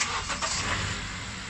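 A Honda car's engine starts by remote start, a steady close rumble with a brief cranking burst near the start, then settling into an even idle with no one talking.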